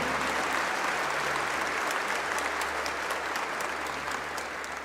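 A church congregation applauding during a priest's homily, a dense continuous wash of clapping from many hands that holds steady for the whole stretch, with no speech over it.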